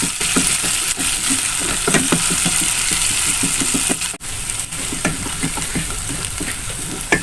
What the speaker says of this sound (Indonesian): Iya guys, minyaknya sudah panas. Kita aduk sampai harum ya guys.